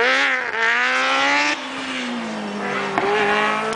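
A race car drives fast at a racing event, its engine a loud, sustained harmonic roar that dips and shifts pitch as it changes speed, close and continuous with no voices.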